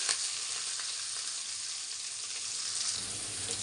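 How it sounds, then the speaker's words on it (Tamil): Sliced onions, curry leaves and dried chillies sauté in hot oil for a chow chow and banana stem kootu, producing a loud, continuous crackling sizzle that stays even from start to finish. "கருவேப்பிலை காஞ்ச மிளகாய் வெங்காயம் எல்லாம் போட்டு கொஞ்சம் நல்லா வதக்கிடலாம்"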